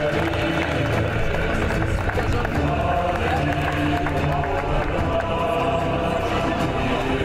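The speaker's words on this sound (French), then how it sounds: "On peut l'applaudir très fort." An audience cheers and applauds at a tennis tournament prize-giving ceremony, a dense, continuous wash of crowd noise and clapping that stays loud and unbroken throughout.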